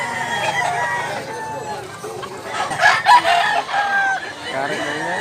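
Several roosters at a Cebu poultry farm crow and cluck over one another. The calls stay loud and overlap throughout, with a brief louder burst midway and no clear speech.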